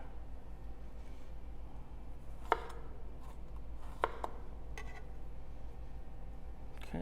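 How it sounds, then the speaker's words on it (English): A knife slicing garlic thinly on a cutting board for a stir fry, a few crisp, separate chops spaced about a second apart, close and quiet over a low steady hum, with no talking. "I'm kind of doing some thin slices of garlic"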